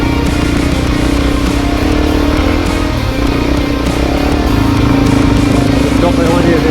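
A DRZ400 motorcycle engine drones loudly and steadily while being ridden on Rainbow Beach sand, with a constant mid-pitched hum and wind noise, close to the rider, under a voice.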